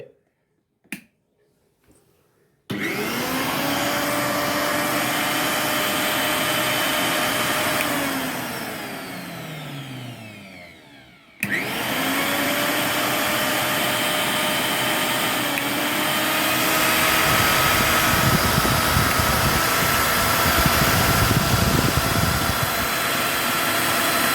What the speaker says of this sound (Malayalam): അപ്പോൾ നമ്മളെ മിക്സി ഇവിടെ റെഡി ആയിട്ടുണ്ട്